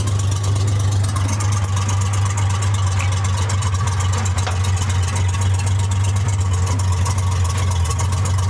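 The engine of a 1947 International KB3 truck, rebuilt after being locked up for years, runs with a steady low rumble and rough mechanical clatter, loud and close, holding constant with no throttle changes and no speech.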